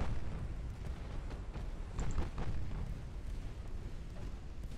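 A torpedo strikes a ship in the naval warfare game Ultimate Admiral: Dreadnoughts, with a muffled distant boom that rises over a constant rumble of naval gunfire and surf, faint and without speech.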